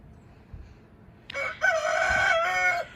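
A rooster crows once, loud and close, a drawn-out call over quiet background, in winter.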